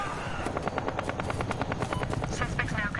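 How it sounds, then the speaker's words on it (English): A helicopter in the video game Battlefield Hardline whirs with a rapid, even rotor chop, close and loud, pulsing steadily with brief bursts of game noise mixed in. "Suspect's using a helicopter."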